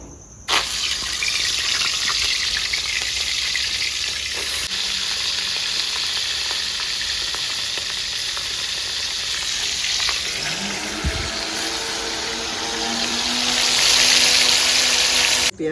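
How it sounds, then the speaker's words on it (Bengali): Katla fish sizzles and fries steadily in hot oil, a loud continuous crackle close by that swells toward the end, with no talking. "তেলটা গরম হয়ে গেছে ভালো মাছগুলো দিয়ে দেবো"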